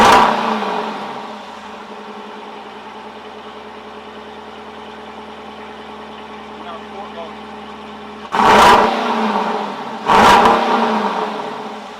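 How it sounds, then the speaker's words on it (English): A Dodge Durango R/T engine idles with a steady exhaust rumble, then gives two sharp, loud revs near the end, each rising quickly and falling back to idle. "I'm going to start it up in normal mode, give it a rev, and then I'll switch over to a sport mode and give it a rev."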